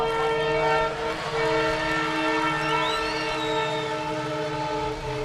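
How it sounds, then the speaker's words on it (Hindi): A passing train blows a long, loud, steady horn close by, its layered tones holding for several seconds over the rumble and clatter of the rail cars. "उस समय भी ये ट्रेन आ गई थी"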